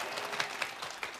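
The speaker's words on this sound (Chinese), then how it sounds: "掌声欢迎" A studio audience applauding on a Taiwanese variety talk show, brief steady clapping from a crowd filling the room.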